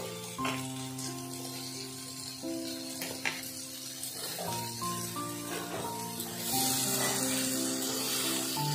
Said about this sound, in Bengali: আমি এর মধ্যে এবারে আলু বেগুনটা দিয়ে দেব